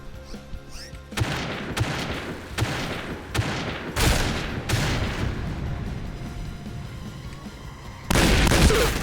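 Gunfire in the battle-royale video game PUBG: a series of sharp, loud shots in a few distinct bursts, then a heavier burst of fire near the end, with no talking.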